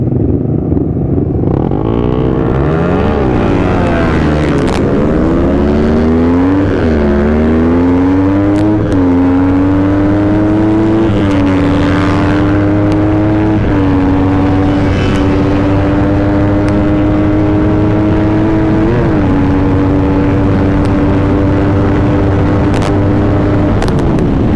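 A two-stroke motorcycle engine revs hard and accelerates, loud and close, its pitch climbing through several gear shifts before holding at a high, buzzing drone.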